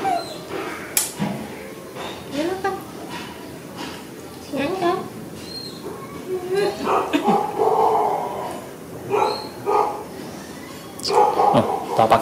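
A dog being pranked with a lemon, or citrus, gives several sharp barks and yips close by, scattered among people talking and laughing.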